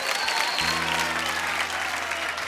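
An audience at a comedy show breaks into dense, sustained applause, loud and steady, with a low musical tone entering partway through.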